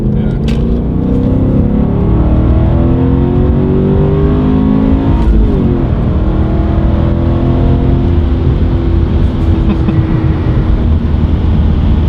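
A loud BMW E39 M5 V8 car engine rumbles and revs steadily, the pitch climbing and dropping in waves, with a throaty low growl close by.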